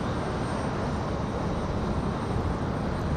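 A Cessna Citation III business jet touching down on the runway at Raleigh-Durham, a steady broad engine rush and roll noise heard at moderate distance, fairly quiet and unbroken.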